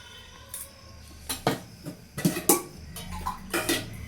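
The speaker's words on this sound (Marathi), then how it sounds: "हे असं मस्त मिक्स करून घ्यायचं आहे" A spoon scraping and clinking in a bowl as bhaji batter is mixed with spices, irregular close taps and knocks in an uneven rhythm, with no talking.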